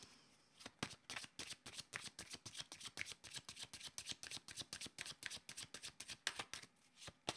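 Playing cards shuffled for a card reading, a fast, steady run of crisp riffling snaps close up, heard alone without talk.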